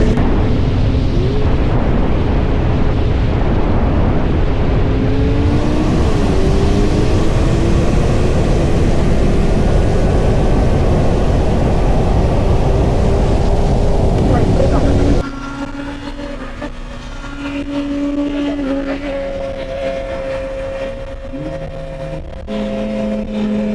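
A Corvette ZR1 making 1064 horsepower and a fully carbon BMW S1000RR superbike race down a runway, their engine roar loud and sustained with rising pitch through the gears, then dropping abruptly to a quieter lower drone.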